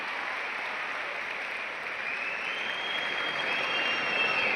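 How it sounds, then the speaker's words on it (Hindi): Smooth, continuous applause from a large audience at a youth event in Delhi, heard from some distance as an even roar that swells slightly toward the end. "मैथिली के लिए जोरदार तालियां"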